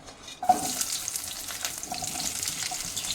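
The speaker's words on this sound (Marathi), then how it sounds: "खोबरं काढलेल्या तेलामध्येच आपण कांदा टाकणार आहोत. कांदा आपला परतून घेणार आहोत." Sliced onion dropped into hot oil left from roasting coconut, starting with a sudden sizzle that settles into a steady, moderately loud frying hiss with light stirring.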